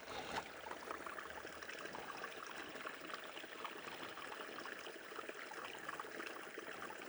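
A small babbling brook beside a hiking trail in Bear Creek Preserve, a faint, steady trickle and rush of running water with no voices.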